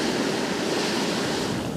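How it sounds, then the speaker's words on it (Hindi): Hot spring water gushes forcefully from the ground in Ladakh, a loud, steady broadband rush heard up close with no voices. "इसकी आवाज़ सुनाई दे रही होगी आपको, इतना तेज़ गर्म पानी इसके अंदर से निकल रहा है"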